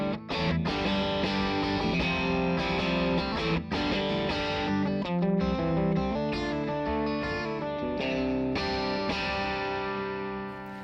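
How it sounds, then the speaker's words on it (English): Electric guitar played through a VOX MV50 AC amp head voiced like an AC30, giving a chiming, crunchy driven tone; sustained chords and riffs ring out steadily and loud with no talking. "The first one is called AC, and that's the classic chime and crunch of VOX's AC30."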